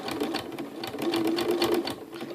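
Close, loud Janome Skyline sewing machine stitching fabric with a ruffler foot fitted, a rapid steady chatter of needle strokes forming pleats, running continuously with no talking.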